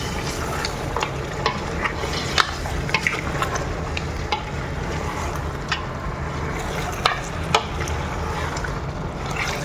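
Boiled mutton pieces being stirred into a sizzling Arabic-style mutton curry with vegetables in a pan, a steady close frying hiss with scraping stir clicks throughout.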